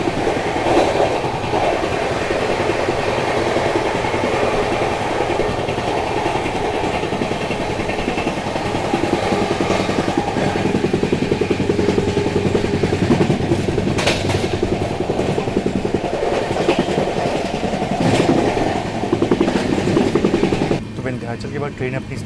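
The Bhubaneswar Duronto Express runs at speed past Vindhyachal, with a loud, continuous rumble and rattle of carriages and rhythmic clicking of wheels on rail joints, heard from inside the train with a voice speaking over it.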